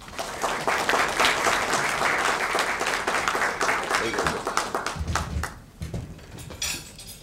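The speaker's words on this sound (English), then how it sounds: "Nice round of applause." A room of people gives a round of applause welcoming William H. Mellor, Institute for Justice president, dense and sustained clapping that thins out toward the end, with scattered louder claps as it fades.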